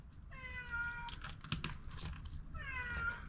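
A cat meows twice, clear, drawn-out cries with a pause between them, close by over a low background hum and a few soft clatters.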